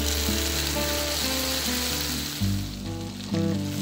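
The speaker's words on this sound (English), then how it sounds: "Place coated bread into skillet." Bread dipped in egg sizzles steadily in melted butter in a cast iron skillet over medium heat, a close and continuous frying hiss with a tonal background running beneath it.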